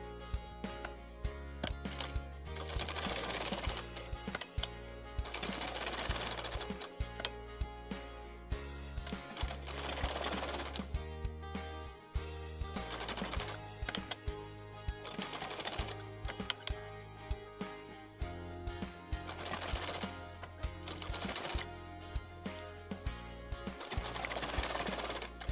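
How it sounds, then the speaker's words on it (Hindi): Sewing machine stitching along the edges of a blouse fabric piece, running in steady continuous bursts with brief pauses between stitching runs, close and fairly loud throughout. "इसके किनारे किनारे सिलाई लगाएंगे"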